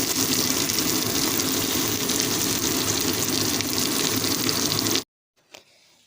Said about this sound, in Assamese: এইখিনি এতিয়া মই অকণমান সময় ভাজি